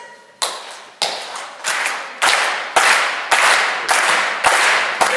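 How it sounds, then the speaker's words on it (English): Women in an audience clap their hands in time to a tune, giving a series of loud, evenly spaced claps about once every half second, each followed by a brief ringing tail. "All the ladies, clap your hands like this."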